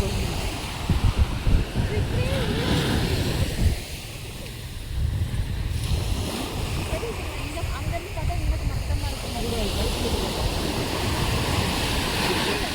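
Ocean waves wash steadily onto a beach, a continuous broad surf roar with wind buffeting the microphone and voices talking faintly underneath.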